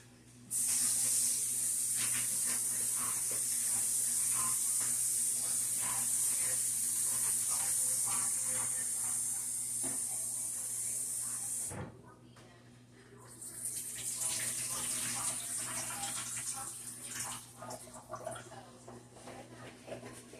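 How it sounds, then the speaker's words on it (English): Onions being rinsed under a running kitchen tap, a loud steady spray of water that stops briefly near the middle, then resumes with splashing and handling sounds. "I'm going to go in and rinse off my onions and everything"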